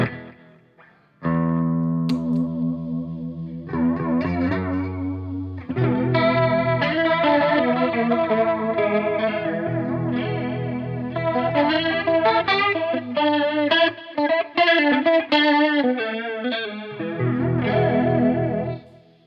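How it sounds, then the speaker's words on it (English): Electric guitar played through a PRS Wind Through the Trees dual analog flanger pedal, ringing chords and melodic lines swirling with a sweeping, watery, underwater-like modulation, loud and continuous with no talking. "Wind Through the Trees, which is a dual analog flanger"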